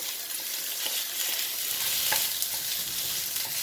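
Chicken and mixed vegetables sizzle hard in a hot stir-fry pan, a dense, continuous hiss of frying with faint stirring clicks, close and steady throughout.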